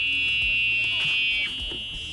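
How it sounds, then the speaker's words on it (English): A Club Car golf cart safety horn gives a loud, continuous high-pitched electronic beep, close and steady, easing slightly in level toward the end. "let's show you how loud this safety horn is"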